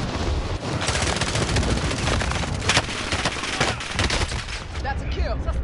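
Sustained bursts of automatic gunfire in a shooter video game, rapid cracking shots layered densely and continuously at close range, with a voice faintly speaking beneath the barrage.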